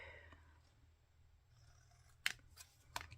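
Scissors snip along the edges of a paper card, two sharp, close cuts standing out over a quiet, faint background.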